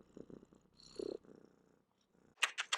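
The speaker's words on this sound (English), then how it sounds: "let's see if you can hear her purring" A cat purrs faintly in soft, low rhythmic pulses up close, followed by a few louder scratchy rustles at the end.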